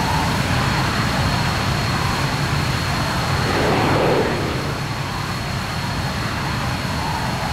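A steady, loud aircraft engine drone from Arma 3 on a descent toward a crash landing, a continuous close hum that swells slightly midway and then settles, with no talking.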